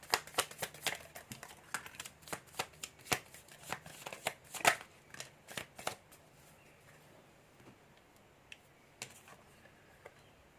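Tarot cards are shuffled by hand in quick bursts of crisp riffling and tapping, loud and close for several seconds, then trailing off into a few sparse clicks.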